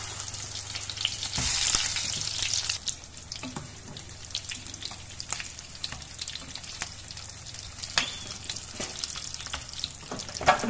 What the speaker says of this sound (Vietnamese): Bây giờ mình rán các thứ khác.